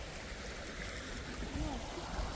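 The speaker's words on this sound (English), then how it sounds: "Now look how the river is flowing here." A river flows through a park, heard as a faint, steady wash of water with soft gurgling, fairly quiet and continuous over a few seconds.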